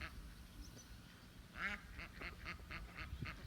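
Several ducks quack in a garden, a burst of calls at mid-distance followed by a steady run of repeated quacks over quiet outdoor background.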